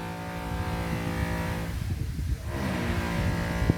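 Machinery noise from a neighbor's nearby construction work forms a steady mechanical drone with a faint rattle, dipping briefly before resuming, with no talking.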